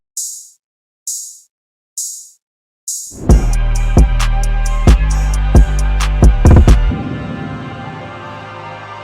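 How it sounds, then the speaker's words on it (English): A second open hi-hat enters a beat: four hissy open-hat hits ring out alone before a dense full mix with heavy bass, drums and repeated bright hat strikes takes over, loud and busy. "We have a second open hat coming in 8 bars after the chorus starts,"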